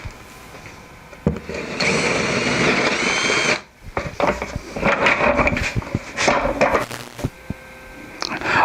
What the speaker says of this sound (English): we'll be drilling about 3/4 of the way through from one side